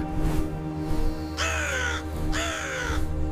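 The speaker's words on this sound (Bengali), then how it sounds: "ছোট্ট একটি কাক," A crow caws twice in clear, loud, drawn-out calls about a second apart, standing out over a low steady background hum.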